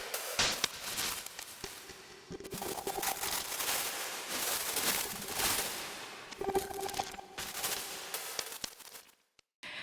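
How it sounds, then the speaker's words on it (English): A dense granular texture from the Arturia Efx Fragments effect mixing grains over a track with drums, busy and shimmering with brief tonal flickers and stuttering hits, ending in a sudden dropout. "And now I do grain mixing."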